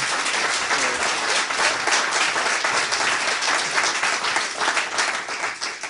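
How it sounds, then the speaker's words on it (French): Audience applause during a French news broadcast, a room full of steady clapping with slightly uneven swells, lasting several seconds and heard on its own without talk. "Il méritait quand même des applaudissements, tu crois pas?"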